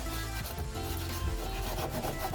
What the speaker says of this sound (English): It's just so thick, you almost have to like rub it off, like with a little sander or something.